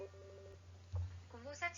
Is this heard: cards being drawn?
no